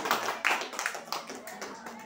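A few people in a religious lesson clap briefly, soft scattered claps mixed with speech and fading quickly.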